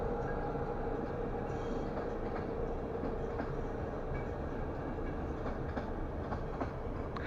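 A train rumbles past close by, a steady loud roar with faint rhythmic clatter of wheels on the tracks throughout.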